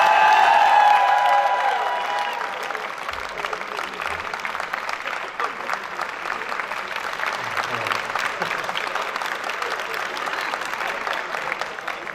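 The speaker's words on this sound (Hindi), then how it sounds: "उसके लिए भी तालियां" An audience in a commerce department hall at a university welcome party in Multan claps steadily, with a brief raised tone at the start, then dense, even applause that continues without pause and stays moderately loud throughout.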